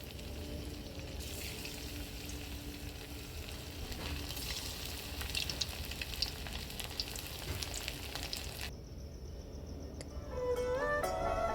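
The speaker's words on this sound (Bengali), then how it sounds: "এইভাবে এপিট ওপিট করে হালকা গোল্ডেন ব্রাউন করে পনিরগুলোকে ভেজে তুলে নেব" Marinated paneer frying in a kadai for chilli paneer gives a steady, close sizzle and crackle of hot oil, with a few light stirring touches and a brief shift in tone near the end.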